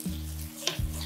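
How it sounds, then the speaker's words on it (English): Vodka and wine cooking off in a pan over medium-high heat for spicy vodka rigatoni, giving a steady sizzle with a low hum beneath and a brief clatter or stir about two-thirds through. "Let the liquor, let the vodka and the wine cook out."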